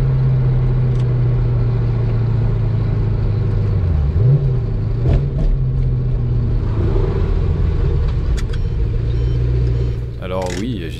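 A Maserati 3200 GT cruises along the motorway, its engine a steady droning rumble inside the cabin with a brief shift in pitch midway and road noise underneath, the note dropping off near the end.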